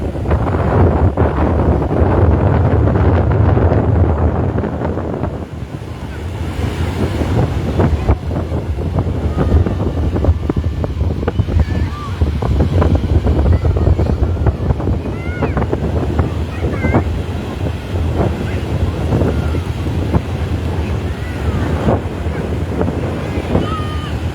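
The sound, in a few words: strong wind at the sea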